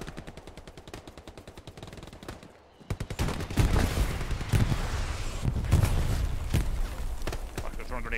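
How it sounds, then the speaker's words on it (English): Grenade blasts and gunfire in an online war game skirmish around a barn: a rapid, close machine-gun rattle, then a brief lull and a run of heavy, booming explosions and shots. "Grenades all around me."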